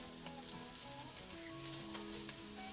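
Garlic, ginger and leftover rice sizzle in a hot pan for fried rice, giving a dense, steady hiss with light stirring ticks throughout.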